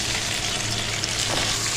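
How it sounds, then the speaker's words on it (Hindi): Marinated chicken frying with garlic in a pan, a steady, dense sizzle that holds constant throughout with no talking. "तो अब हम इसमें डाल देंगे मैरिनेट किया हुआ चिकन।"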